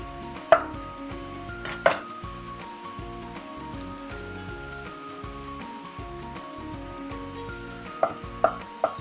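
Garlic being chopped on a cutting board: a few sharp, close knife strikes land in small clusters over a steady low kitchen hum.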